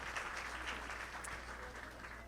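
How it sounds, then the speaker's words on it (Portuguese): A church congregation at an evening youth service applauds, a soft, steady patter of many hands that is fairly distant and low in level, with no talk over it. "Você pode aplaudir ao Senhor?"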